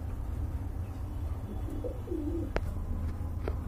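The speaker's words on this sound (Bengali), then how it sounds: "এটা কিন্তু বন্ধুরা বারলেস কবুতর" Soft, low pigeon coos repeat a few times over a quiet background hum, with a couple of brief clicks, at a pigeon market.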